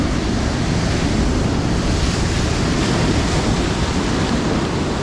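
Ocean waves break continuously on a seashore, a loud and steady wash of surf mixed with wind buffeting, with no pauses or voices.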